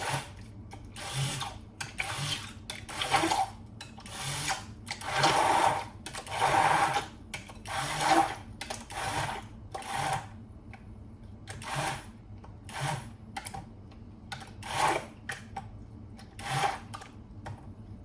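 A hand blender, or liquidiser, whisks tomatoes into a pizza sauce, giving repeated short whirring bursts with pauses between them, close and fairly loud, with no talk.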